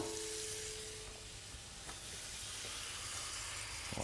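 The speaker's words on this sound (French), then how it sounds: "Donc on met un peu d'eau." Water poured into a baking mould for a bain-marie: a steady, hissing stream close by that holds nearly constant throughout, with a faint clink partway through and no talking.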